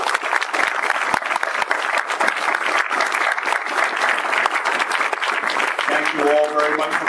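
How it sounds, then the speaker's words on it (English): An audience at a pulp fiction convention applauds panelists, a dense, sustained burst of clapping filling the room, with a voice briefly speaking over it near the end. "let's please give a round of applause to our panelists"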